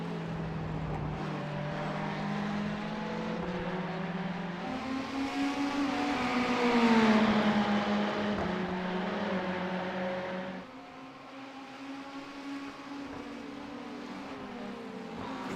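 Ferrari GT race cars lapping Donington National in the iRacing sim, engines droning and rising in pitch through upshifts, one car swelling close then fading as another takes over, steady and loud with no talk.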